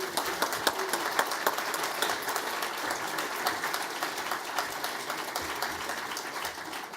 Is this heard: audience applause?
yes